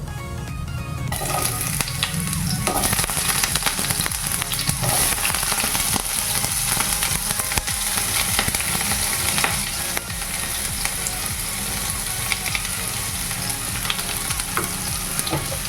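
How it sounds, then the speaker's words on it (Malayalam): Onions sizzle and fry steadily in a pan of popped mustard seeds over lowered heat while being stirred, for a soya chunk roast; a loud, continuous crackle with stirring scrapes and no talking. "അപ്പൊ കടുക് പൊട്ടിയപ്പോഴത്തേക്കും ഇതിലേക്ക് ഇനിയും സവാള ഇട്ട് കൊടുക്കാം"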